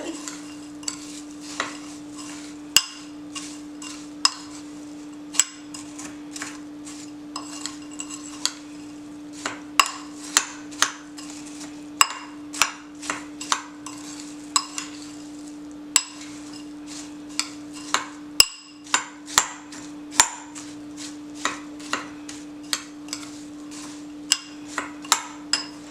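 A spoon stirs a pineapple casserole mixture in a bowl, knocking against the sides in frequent irregular clinks and scrapes over a steady background hum, close and without speech.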